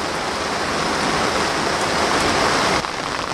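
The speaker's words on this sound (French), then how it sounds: "Et il pleut." Heavy, steady rain pouring down in the village of Les Saintes, Guadeloupe, a dense continuous hiss close by with no voices.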